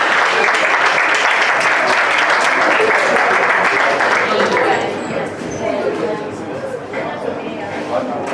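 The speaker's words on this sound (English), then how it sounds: "Please, with a very big round of applause." Loud audience applause at the Togo National Debate Championships final, a dense roar of clapping that holds strong, then eases somewhat and continues at a lower level.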